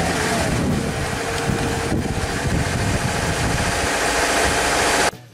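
A 2013 Subaru Outback 2.5L engine with a clogged catalytic converter idles roughly, a steady low drone with buffeting rumble heard close up, before it cuts off abruptly at the end.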